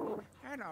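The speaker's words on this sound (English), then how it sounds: "Yo, let's go, ghost dog!" A ghost dog in the Luigi's Mansion 3 video game lets out a short, whiny bark that slides into a higher yelp, clear and close in the game audio.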